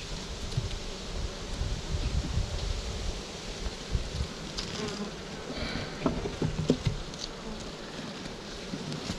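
Honey bees hum and buzz densely around a brood frame lifted from a hive, a steady close swarm drone with light rustling and no speech.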